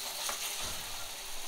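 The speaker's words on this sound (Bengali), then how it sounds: "ডালের বড়াটা ভেজে নিচ্ছি" Lentil fritters (dal bora) frying in hot oil, a brief, steady hiss of bubbling oil, soft and even, with no talking.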